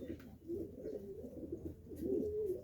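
Pigeons cooing close by in the heat, soft low throaty coos repeating over a quiet background.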